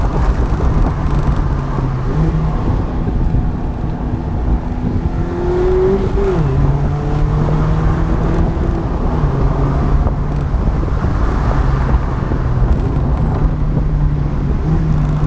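A Mazda MX-5 engine climbs a winding mountain road at Genting Highlands, droning steadily and loudly close up, with pitch rising and falling through gear changes.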